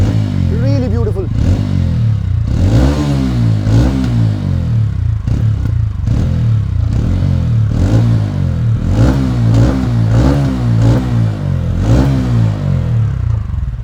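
A TVS Ronin motorcycle's exhaust revs up repeatedly, each throttle blip rising and falling over a steady loud idle, close to the microphone, with someone talking over it.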